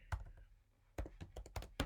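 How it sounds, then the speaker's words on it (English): Typing on a computer keyboard, heard as quiet clusters of short key clicks with a pause in the middle and denser bursts toward the end, with no one speaking. "Oops, so much typing here."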